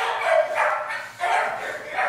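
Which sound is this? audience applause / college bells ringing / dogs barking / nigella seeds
dogs barking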